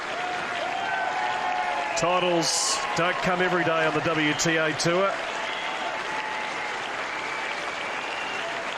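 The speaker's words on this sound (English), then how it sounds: "As the crowd stands and applauds" A tennis crowd stands and applauds the 2016 Hobart International women's final champion, a sustained broad wash of clapping and cheering with a commentator talking over the first half.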